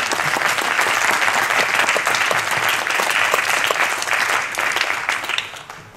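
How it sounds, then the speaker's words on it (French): Audience applauding at a public talk on Israeli-Palestinian peace in Cenon, a dense, steady wash of clapping from a sizable crowd that holds strong for several seconds, then begins to fade at the end. "Vous pouvez applaudir."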